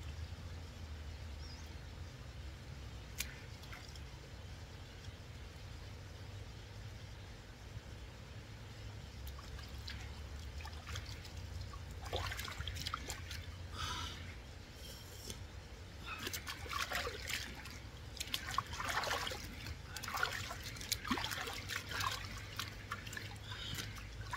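A shallow countryside stream trickles and drips continuously under a low background rumble, and clearer splashes and sloshes come in bursts in the second half.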